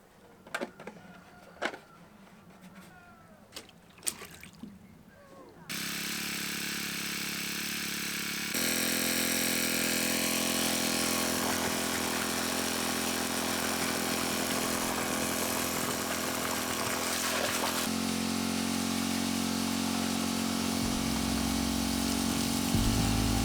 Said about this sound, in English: As we were pumping the water